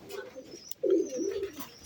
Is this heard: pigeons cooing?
yes